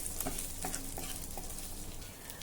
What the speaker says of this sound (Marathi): मंद आचेवर आता हे छान हलक्या तांबूस रंगाचं होईपर्यंत आपल्याला परतायचं आहे